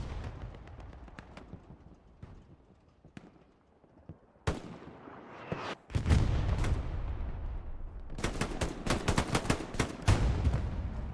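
Machine gun fire in the World War II shooter Hell Let Loose, a competitive match in Carentan, scattered distant shots giving way to loud, close, rapid bursts and booming impacts.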